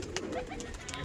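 Pigeons at Zahir Bapi's loft in Behala give a brief, soft cooing burst up close, with no one speaking.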